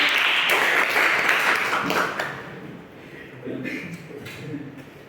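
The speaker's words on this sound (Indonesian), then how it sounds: "tepuk tangan untuk Mas Juliet" Classroom applause for a student in a micro-teaching lesson, with a burst of many hands clapping that gradually thins out into scattered claps and faint room murmur.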